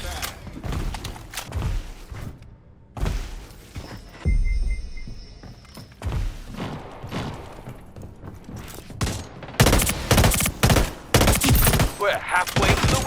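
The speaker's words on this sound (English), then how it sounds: "It's essentially the assault rifle with just burst shot" Burst-fire assault rifle shots from a scoped rifle in the video game Splitgate 2, coming in repeated short volleys under ongoing game sounds and a voice talking, loudest in the dense stretch near the end.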